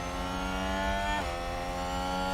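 Formula 1 cars in F1 Manager 2022 hold a steady, high engine whine as one pulls past in an overtake, the pitch dipping briefly as it goes by. No one speaks.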